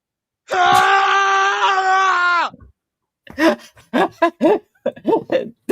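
A loud, sustained wailing scream from a sound effect lasts about two seconds. Bursts of laughter and talk follow after a short pause.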